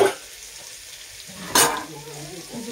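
Onions drop into a hot pan already frying ginger and garlic, setting off a burst of sizzling that settles into a steady, close crackle of frying, with a brief voice in the background.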